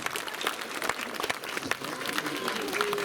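A festival concert crowd at Ше.Fest 2023 applauds in dense, sustained clapping, with a few voices calling out over it.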